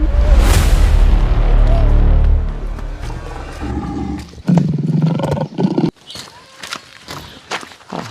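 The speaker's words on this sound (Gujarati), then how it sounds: "આપણા હનુમાનગઢમાં એક ખૂંખાર સિંહ આવી ગયો છે" A lion's deep, powerful roar dominates the opening seconds, fading into thuds, shuffling steps and scattered clatter nearby.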